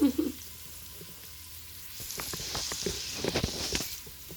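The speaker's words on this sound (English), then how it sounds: "You can see the onions browning." Onions and minced garlic frying in a pan, a steady close sizzle that swells after a quiet start, with scraping and stirring clicks scattered through it.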